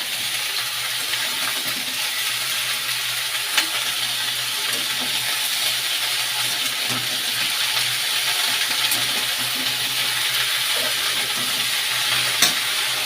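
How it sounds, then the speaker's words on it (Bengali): Vegetables frying and being stirred in a pan, with a loud steady sizzle throughout and a few sharp clinks of a spoon against the metal, close by and without any voices. "সবজিগুলো দিয়ে কিছুক্ষণ নেড়ে চেড়ে নিতে হবে বন্ধুরা।"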